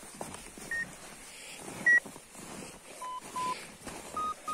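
An Arva Evo 5 avalanche beacon emits short, thin electronic beeps at irregular intervals that signal proximity during a search, over faint outdoor background noise.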